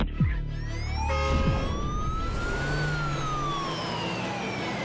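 A fire engine siren wails as the truck races from Bankstown to a house fire, its tone sweeping and falling loudly over rumbling engine and road noise, continuous and close.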